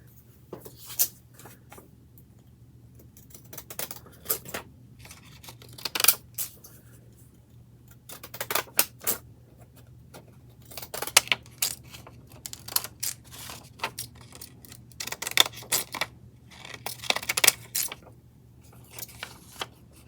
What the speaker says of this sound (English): Reach around here and grab some scissors.